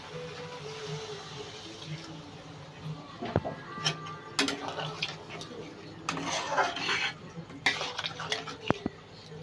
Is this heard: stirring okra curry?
yes